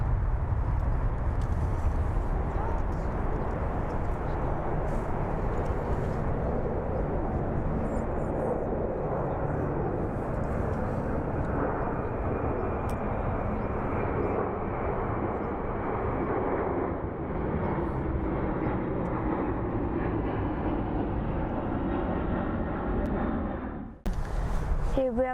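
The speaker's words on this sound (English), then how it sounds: "Here we have a Lufthansa 787-9 Dreamliner headed to Mumbai, popping up." A Lufthansa Boeing 787-9 Dreamliner taking off at Frankfurt airport, heard as a loud, continuous, broad jet roar that holds steady and cuts off near the end.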